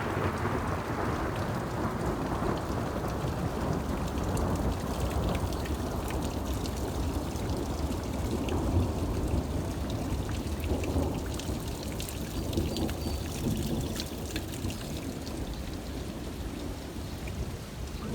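Severe April thunderstorm in Toms River: steady heavy rain pours throughout with low rumbling thunder rolling underneath, continuous and fairly close, no voices.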